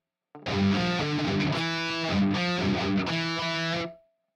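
Distorted electric guitar plays the main riff of a song, a loud, chunky run of palm-muted and ringing notes lasting a few seconds before it cuts off cleanly.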